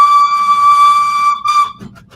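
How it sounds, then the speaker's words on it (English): A loud, sustained steam locomotive whistle in a video game, from an SR Merchant Navy Class engine, blows, a brief dip, then a short second blast before it fades out. "It's a steam whistle, Alfred."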